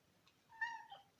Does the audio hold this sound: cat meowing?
yes